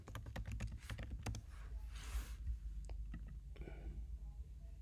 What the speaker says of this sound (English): So you just type in QuickTime.